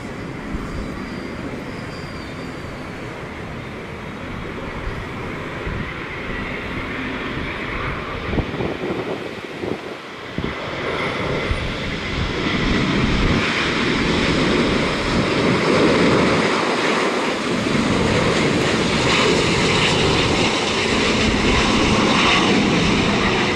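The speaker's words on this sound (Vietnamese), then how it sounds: "Chiếc máy bay đang bước vào hạ cánh là Airbus A350-900 của China Airlines." A China Airlines Airbus A350-900 comes in to land. Its broad engine roar swells from a steady rumble into a louder, fuller rush of jet noise with wind buffeting, heard from outside at close range.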